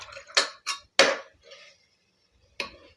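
Mint and coriander being stirred in a metal cooking pot, heard as a few sharp scraping and clanking strokes of a spoon against the pot with short pauses between them, close and moderately loud, with no talk.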